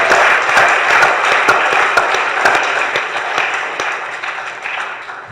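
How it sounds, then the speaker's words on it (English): An audience at a retreat in Hawaii applauds, a loud, full burst of many hands clapping that gradually thins and fades toward the end. "So let's give them a round of applause for their vision."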